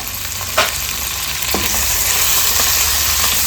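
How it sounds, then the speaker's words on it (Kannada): Two medium tomatoes with half an inch of ginger frying in a pan for a spiny gourd gravy, a loud, close, continuous sizzle broken by a couple of sharp spatula taps and scrapes. "ಟೊಮೆಟೊ ಚೆನ್ನಾಗಿ ಸಾಫ್ಟ್ ಆಗೋವರೆಗೂ ಫ್ರೈ ಮಾಡ್ಕೊಳ್ಳೋಣ."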